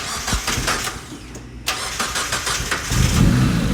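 Turbocharged Mazda Miata NB engine cranking and catching, then running rough with uneven, sputtering idle pulses close by, no talk.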